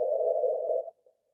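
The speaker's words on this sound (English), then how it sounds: "basically the sound version of two black holes merging into one another" A sonified gravitational-wave chirp from two black holes spiralling into each other and merging: a single smooth tone just under a second long that cuts off abruptly, followed by a faint brief blip.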